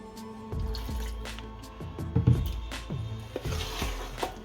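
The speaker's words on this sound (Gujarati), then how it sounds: "એની ઉપર સેજ પાણી નાખશું." A little water poured onto semolina handvo batter in a bowl, heard as a few soft, close splashes and drips spread through the quiet kitchen scene, with no one talking.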